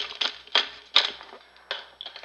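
A bunch of keys rattled by hand, giving a few sharp metallic jingles in irregular bursts, close and fairly quiet with short pauses between shakes.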